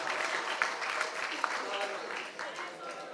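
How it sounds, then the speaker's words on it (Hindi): Applause from a live audience at a comedy poetry show, a steady patter of many hands clapping with a few sharp individual claps, moderately loud and sustained across the clip. "एक बार बजाइए थोड़ी सी तालियां।"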